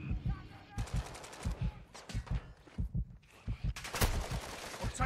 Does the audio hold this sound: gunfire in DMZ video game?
yes